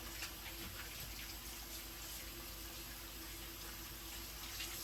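Tap water runs steadily into a sink while hands are rinsed, a constant close hiss with no break and no talk.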